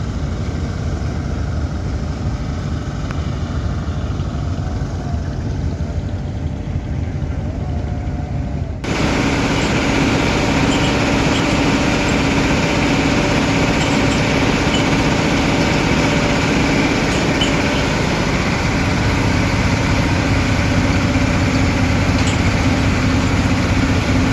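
A houseboat engine on Tanguar Haor in Sunamganj runs loud and steady as the boat departs, a continuous rumbling drone that grows brighter and fuller partway through.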